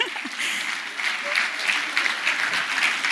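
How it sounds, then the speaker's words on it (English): An audience claps steadily and fairly close at a health insurance talk event, a dense run of hand claps lasting a few seconds with some voices mixed in underneath. "Clap for her, wacheni wivu,"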